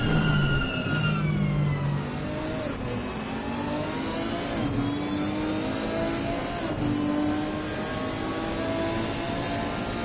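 Nissan GT race car engine in the Assetto Corsa Competizione racing game, loud and close, revving and shifting with rising and falling pitch sweeps through several gears, no speech.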